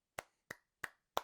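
Four single hand claps spaced evenly at a slow, deliberate pace, each sharp and close with a quick decay, alone in a quiet space.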